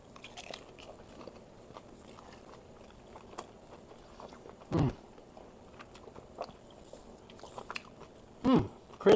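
Crispy buffalo-style wings bitten into up close: soft chewing under a quiet background, then two or three distinct loud crunchy bites spaced several seconds apart.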